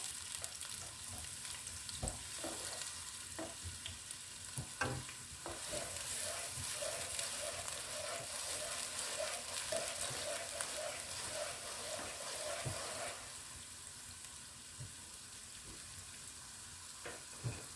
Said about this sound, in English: We're going to fry our onions, like I said, until they're translucent